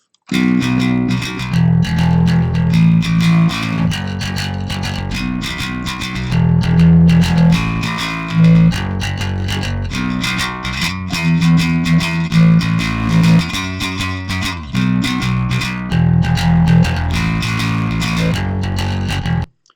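Bass guitar played through a gritty, medium-gain guitar-amp-style distortion on a JCM channel in Reaper, repeating a riff with bursts of notes and short pauses.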